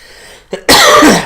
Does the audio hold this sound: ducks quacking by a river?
no